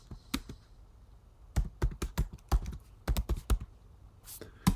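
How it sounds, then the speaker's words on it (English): Short bursts of keystrokes on a computer keyboard type out a name, with close, crisp clicks in quick clusters separated by brief pauses. "Type in my name."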